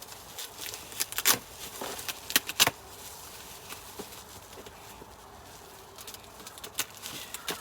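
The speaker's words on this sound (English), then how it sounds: "Let's unwrap it fully." Brown parcel paper being unwrapped by hand produces close, intermittent crinkles and sharp rustling bursts, fairly quiet overall, with no voices.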